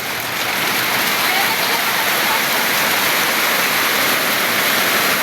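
Heavy rain pours in a dense, continuous roar, loud and steady throughout, with no talking.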